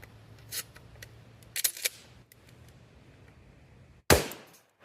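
A 12 gauge shotgun firing a Shadite hull loaded with airsoft BBs, one loud sharp close blast near the end, preceded by a few lighter clicks and handling noises.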